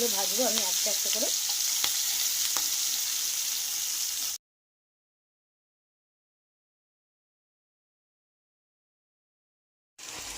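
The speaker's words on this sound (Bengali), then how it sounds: "মাছগুলো ভাজবো আমি আস্তে আস্তে করে।" Prawns frying in hot mustard oil give a close, steady sizzle for about four seconds, then the sound cuts to silence before the sizzling briefly returns at the end.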